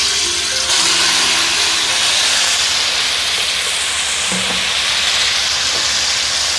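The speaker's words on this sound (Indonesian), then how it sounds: "Saya tumis dulu bumbu yang sudah digiling kasar." Coarsely ground chili spice paste for balado eggs sautés in hot oil with a loud, steady, close sizzle and hiss that fills the whole stretch, with only a brief soft clink of stirring.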